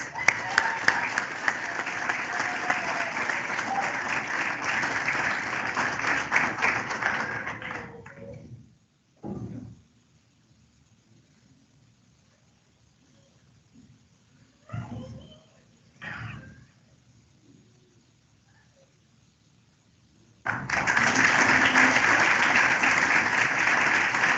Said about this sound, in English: One more round of applause for all of our graduates today